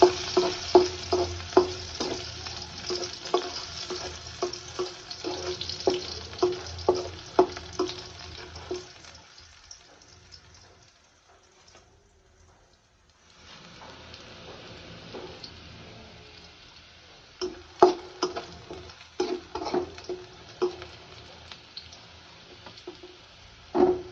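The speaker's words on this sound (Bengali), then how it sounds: "তো এখানে এই যে পেঁয়াজ আর রসুন ভেজে নেব।" Onion and garlic fry in a pan while a spatula scrapes and taps in repeated strokes. The stirring stops for a few seconds midway, leaving only a faint hiss, then resumes with a steady sizzle.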